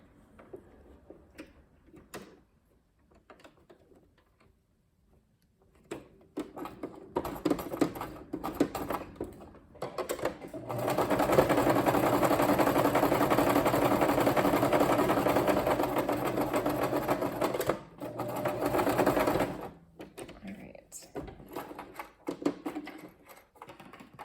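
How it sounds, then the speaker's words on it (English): Sewing machine stitching down fabric tabs made from a fabric sample book: a few short bursts, then a long steady whir lasting several seconds, followed by a brief final run and light handling noises. "And then I'm just going to stitch this down real quick."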